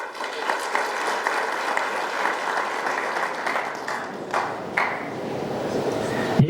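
Warm applause from an awards-ceremony audience at a cultural evening, steady clapping that fills the whole stretch without letup.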